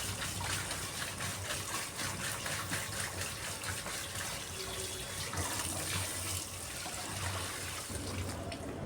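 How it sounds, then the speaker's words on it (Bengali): Peeled potatoes in a basket are washed under a running kitchen tap, a steady, fairly loud gush of water with splashing that carries on throughout, without talk. "এবার ধুয়ে নিচ্ছি আলুটাকে।"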